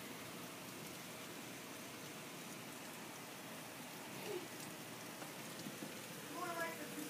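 Steady rain falling after a hard downpour, a dense even hiss of drops on surfaces that holds at a constant moderate level throughout, with no voices.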